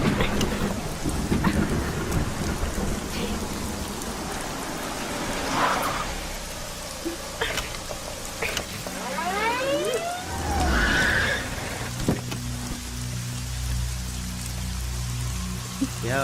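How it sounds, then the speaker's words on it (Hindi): Rain pours steadily with thunder rumbling through a stormy night, a continuous wash of falling water with louder rolls and a few sharper rising tones mixed in. "बरसात है ना"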